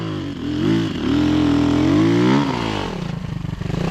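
A Rottor Bronx 300 enduro motorcycle revs hard on a wet hill, its engine note climbing and holding high before dropping back, loud and close.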